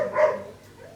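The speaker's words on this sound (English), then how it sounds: "Wow, my dogs." A dog barks once or twice, a short, loud burst at the start that fades into a quiet tail.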